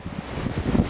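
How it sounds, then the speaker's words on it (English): Wind gusts across a waterside walkway in Cebu City, Philippines, a steady broadband rush of moderate loudness with slight swells and no voices. "I hope you can hear me for the wind. It's pretty windy out here"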